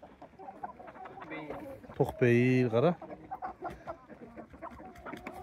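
Calm, heavy European-bred chickens at a resort farm give a few short clucks, with one louder, drawn-out call standing out near the middle, while someone talks over them.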